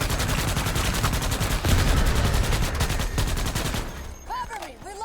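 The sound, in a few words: gunfire from a video game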